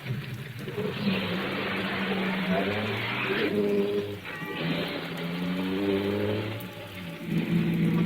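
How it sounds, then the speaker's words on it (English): Car engine sound effect from an old-time radio suspense drama, accelerating with a rising, droning engine note that holds steady for several seconds and dips briefly before picking up again. "I'll bring up the car back on the road again."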